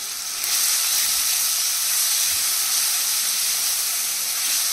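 Two large chopped onions and a green chilli hitting hot oil in a pan, a loud steady sizzle and hiss that swells at the start and holds without pause.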